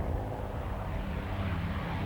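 A Mosquito propeller aircraft flies past with a steady, even engine drone, moderately loud and unbroken throughout, with no voices.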